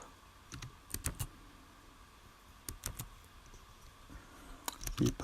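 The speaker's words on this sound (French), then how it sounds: "Il n'est pas facile ce clavier, dis donc." Keys being typed on a computer keyboard during PHP coding, clustered quiet clicks in short bursts with pauses, close and soft against a low room hiss.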